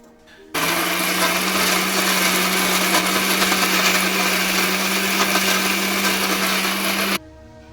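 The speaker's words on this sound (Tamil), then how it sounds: "மிக்சியில் போட்டு அரைக்கணும்." A kitchen mixer grinder whirs loudly at a steady pitch, grinding sautéed masala for Chennai-style crab gravy. It starts abruptly after a quiet moment and runs for about seven seconds before cutting off sharply.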